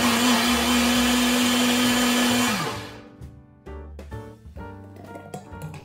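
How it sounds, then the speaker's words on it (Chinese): Countertop blender running loud and steady with almonds and orange juice for a few seconds, its whine dropping as the motor winds down near the halfway mark, followed by a few light knocks and clatters. "我用的这个榨汁机呢非常的好用，"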